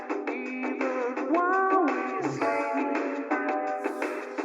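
Tinny, thin-sounding music plays through a small cheap 1980s plastic toy radio, band-limited and boxy, with melody lines and a rhythmic pulse.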